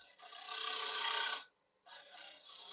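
A 40/40 bowl gouge cutting a wooden three-corner bowl on a lathe gives a steady, close rasping scrape that stops briefly and then resumes, with no talk.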